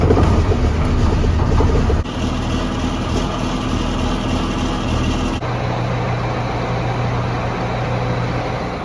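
A farm vehicle's engine runs and warms up, a loud steady low rumble with rattling that shifts character twice as the revs and load change, continuing throughout without any talk.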